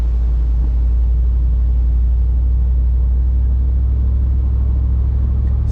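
A Jeep Wrangler with a swapped 6.4 Hemi engine accelerates and shifts gears, giving a loud, steady low rumble heard from inside the vehicle.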